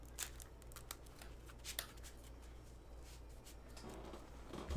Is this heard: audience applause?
no